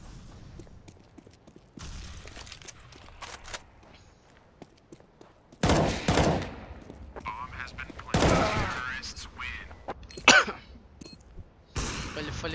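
Gunfire from Counter-Strike: Global Offensive on the Dust2 map in a competitive match, several sharp loud bursts of shots between quieter stretches of footsteps and game noise, with players talking over it.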